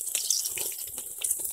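Water poured over a dog's face during washing, splashing and trickling in short uneven bursts, close by and fairly loud.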